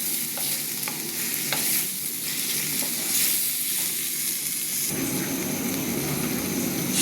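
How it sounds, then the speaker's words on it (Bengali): Shahi kabab gravy sautéing in oil hisses continuously, with stirring scrapes and bubbling; the sizzle swells and grows harsher near the end, with no one talking. "এটা আমি এখন এটা সটে করে নিচ্ছি, বেশ করে সটে করতে হবে, তেলের উপরে আসলে হয়ে যাবে।"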